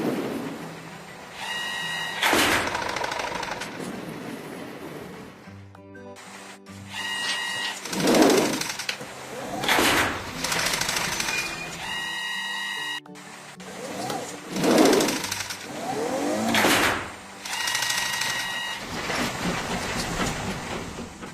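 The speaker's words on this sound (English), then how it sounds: "Let's lay rails and sleepers." Cartoon track laying machine laying rails and sleepers, a loud mechanical cycle of repeated clanks, thumps and whirring bursts roughly every couple of seconds, with tonal chimes layered over the machinery.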